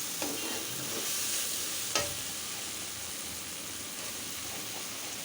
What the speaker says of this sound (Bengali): ভাজা ভাজা করে রান্না করলে খুব ভালো লাগে খেতে